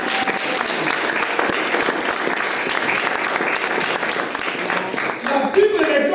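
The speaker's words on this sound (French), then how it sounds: "Est-ce qu'on peut acclamer le Seigneur?" A church congregation applauds to acclaim the Lord, steady dense clapping with crowd voices mixed in, sustained and loud for several seconds.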